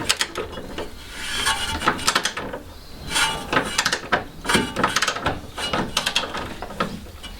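Wrench turning an 18 mm captive nut on a BMW 1 Series front control arm during strut and shock absorber repair, giving close, repeated metallic ratcheting clicks and scraping bursts in irregular clusters, with no talking.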